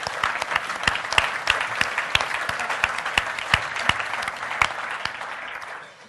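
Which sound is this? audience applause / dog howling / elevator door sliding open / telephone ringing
audience applause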